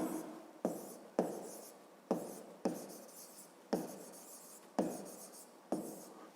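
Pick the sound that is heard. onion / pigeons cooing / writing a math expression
writing a math expression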